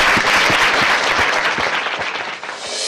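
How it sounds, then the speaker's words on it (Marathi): A studio audience at a Marathi television show claps steadily, a full, close round of applause that runs unbroken for about three seconds and fades a little toward the end. "त्यामुळे मधली सुट्टीसाठी आणि या शिक्षकांसाठी एकदा सॉलिड टाळ्या झाल्या पाहिजे."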